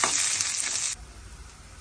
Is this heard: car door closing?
no